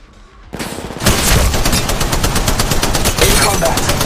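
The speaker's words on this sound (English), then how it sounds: "The enemies are shooting at me." Sustained automatic gunfire in the Apex Legends Mobile video game, a dense, loud rapid stream of shots starting abruptly after a brief quiet moment and continuing without pause.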